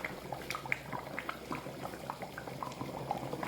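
Egusi and achi soup bubbling in a pot, soft irregular pops and blips over a low simmering hiss, quiet and close.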